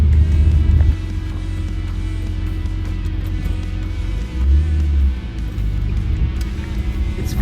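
A Nissan Skyline cruises in second gear at low revs, giving a steady, deep engine drone from inside the car with a brief swell of rumble midway.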